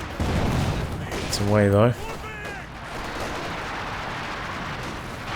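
Raketenwerfer anti-tank gun firing in Company of Heroes 2, a muffled battlefield boom under steady combat noise while a voice speaks over it.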